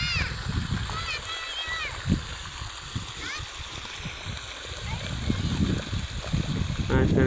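Irrigation water pours from a pipe into a chickpea field with a steady splashing, gurgling flow close by. Someone talks over it throughout.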